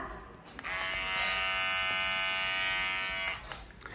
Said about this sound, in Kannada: ರಾಜು ಟ್ರಿಮ್ಮರ್. ಅದನ್ನ ಯಾಕೆ ತಗೊಂಡ್ ಬಂದಿದ್ಯಾ?